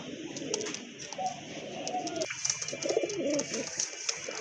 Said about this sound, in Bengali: এখানে কিন্তু এক জোড়া কবুতর আছে